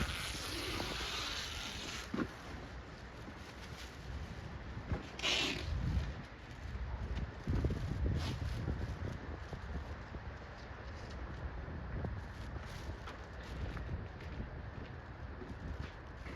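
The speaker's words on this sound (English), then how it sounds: "And the stupid wind." Gusty outdoor wind buffets the microphone steadily throughout while Ford pickup truck rims are being spray-painted gloss black, rumbling low with a few stronger gusts and faint rustling.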